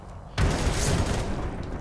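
Gunfire aimed at the player in the video game F.3.A.R. erupts suddenly and loudly, then carries on as a dense, continuous roar of shots and noise for the rest of the moment.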